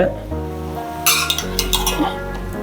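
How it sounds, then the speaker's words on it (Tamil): Spoon stirring ginger garlic paste into chicken gravy in a pan, with soft scraping and clinks against the cookware over a low sizzle, brief and close. "இஞ்சி பூண்டு பேஸ்ட்டு, மிக்ஸ் பண்ணுங்க"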